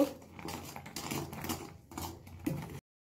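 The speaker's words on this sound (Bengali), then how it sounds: "খুব ভালো করে নেড়ে নেব।" A spoon scrapes and clinks against a pan while stirring carrot halwa with sugar, giving a quick series of close scrapes that stop abruptly near the end.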